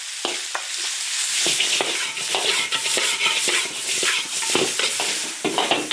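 Steady, loud sizzling of pork tripe stir-frying in an iron wok with garlic, pickled chillies and Sichuan peppercorns, with repeated scraping and tossing strokes of a spatula throughout.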